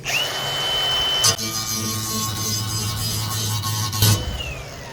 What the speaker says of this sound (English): I didn't grind a little spot for the ground. Let me do that.